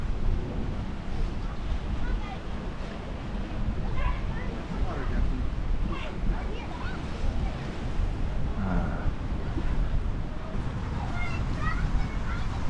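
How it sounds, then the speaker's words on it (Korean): Wind buffets a GoPro microphone fitted with a Windslayer cover outdoors near sunset, a steady rushing roar with gusty surges throughout, no speech heard. "바람 소리 한번 들어보시고."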